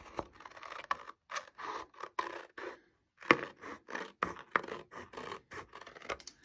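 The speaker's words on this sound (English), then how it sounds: "Now I'm gonna come in and cut these V's." Scissors snip V-shaped notches into paper for a bluebird pop-up box, a series of short, crisp cuts in quick irregular succession, close and fairly quiet, with no talking.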